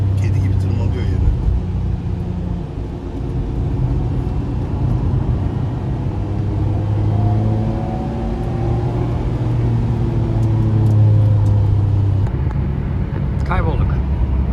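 A Nissan GT-R R34 V-Spec II Nür drives through countryside fields in the Netherlands, its engine a steady low drone with shifting tones heard from inside the car while occupants talk over it.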